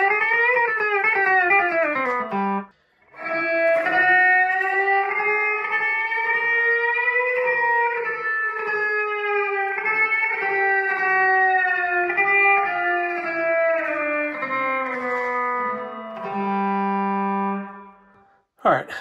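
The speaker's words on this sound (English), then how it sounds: "a subscriber request for a descending double stop lick" A distorted electric guitar plays a descending run of two-note double stops, sustained and bending slightly, with a short gap early on and a held low note near the end.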